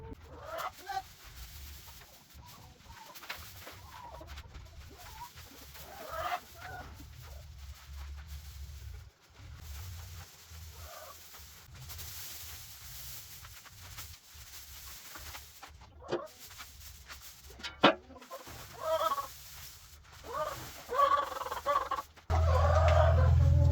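Chickens cluck and murmur steadily through a long stretch, with occasional sharper calls and some background noise; no talking.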